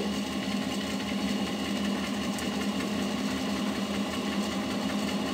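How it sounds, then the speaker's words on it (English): A homemade PMG generator spins during an rpm voltage test, giving a steady whining, buzzing hum that holds at an even level throughout. "let's test this generator by a certain RPM."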